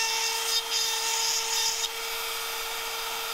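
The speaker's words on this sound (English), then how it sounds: "Really just barely touch the metal with the carbide bit." A carbide bit deburring the metal of a Buick 455 engine, a steady high whine with brief scraping touches early on, then a smoother run, heard close and alone.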